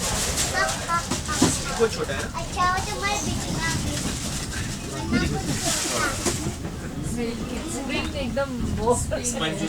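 A steam train runs through Scotland, its continuous rumble and rattle heard from on board. Wind buffets the microphone, and people talk over the noise throughout.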